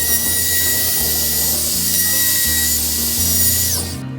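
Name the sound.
router cutting wood for a gazebo floor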